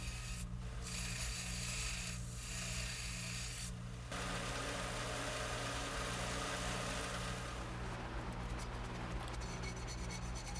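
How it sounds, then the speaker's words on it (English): Bench grinder smoothing the edges of a freshly forged kaiken dagger blade: a steady, loud abrasive rasp over a low hum, with brief breaks near the start and a harsher, more crackling grind toward the end. "But once I had the blade forged, it was over to the grinder,"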